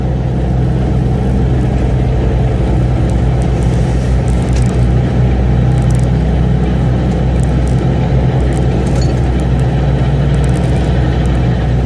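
A MAN TGX 480 truck with its trailer pulls onto the motorway, its engine holding a steady, loud low drone and rumble from inside the cab throughout, with no talking.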